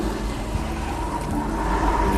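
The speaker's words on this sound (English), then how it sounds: "the generator will not make this much noise" A scooter generator runs with a steady, continuous engine drone and low mechanical hum, holding an even loudness throughout with no talking.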